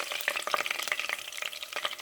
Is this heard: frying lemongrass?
yes